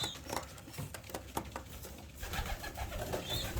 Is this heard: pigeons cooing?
yes